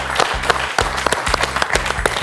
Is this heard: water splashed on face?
no